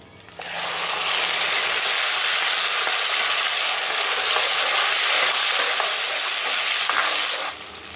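Garlic-ginger paste, cumin and tomato paste sizzle and fry steadily in a dhaba-style pot for mash daal, a loud continuous crackle with no talking.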